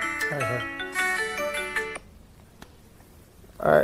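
A phone plays a melodic ringtone for an incoming call, loud and close, for about two seconds before cutting off, followed by a quiet room with a single click and then a person starting to talk.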